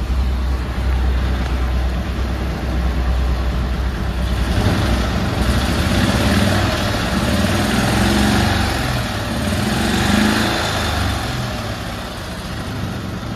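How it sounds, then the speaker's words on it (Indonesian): A restored 1963 BMW R27 single-cylinder motorcycle with a sidecar runs close by, its engine held at a steady loud thrum with gentle rises and falls in revs throughout, no talk. "Saya gas sedikit."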